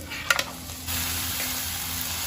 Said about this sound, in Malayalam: നമുക്ക് ഇതിലോട്ട് ടൊമാറ്റോ ഇട്ട് കൊടുക്കാം.